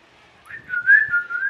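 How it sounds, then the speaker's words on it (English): A lipless character in the mobile game Bowmasters attempts a whistle: a thin, wavering tone that starts faint, swells loud in the middle and wobbles on with breathy gaps, alone without talk. "He's trying to whistle, but he don't have no lips."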